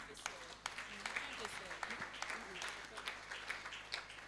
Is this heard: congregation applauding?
yes